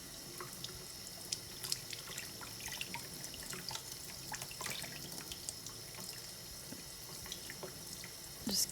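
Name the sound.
running tap water rinsing dyed wooden beads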